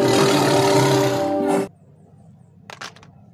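A loud, sustained animal roar fills the first second and a half, then cuts off, leaving quiet background with a couple of brief sharp noises.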